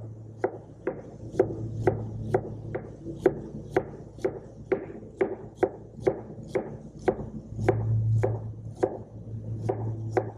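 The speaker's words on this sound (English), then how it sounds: "And we'll slice the fennel very thin." A knife slices fennel thinly on a cutting board in a steady run of crisp, evenly spaced chops, close and clear over a low hum, with no talking.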